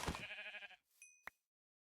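Sheep in Minecraft (GregTech New Horizons modpack) bleat once, loud and close, followed by a short game chime and a sharp click before silence.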